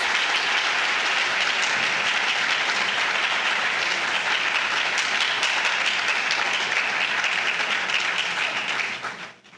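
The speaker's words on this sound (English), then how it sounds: "what a real round of applause the children deserve" An audience at a children's event gives a sustained round of applause, steady dense clapping throughout that fades out at the very end.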